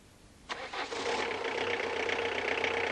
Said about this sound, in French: Mettons le moteur en route.